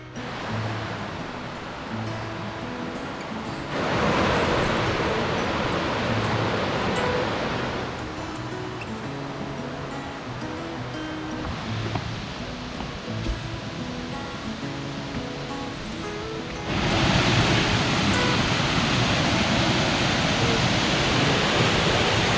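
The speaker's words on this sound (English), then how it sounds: "If you could see that waterfall from the bottom, I think that would be better than Bingham Falls" Steady broadband rush of a waterfall on a hiking trail near Stowe, Vermont, close and continuous, swelling louder in a few stretches as if nearer the falling water, with no voices.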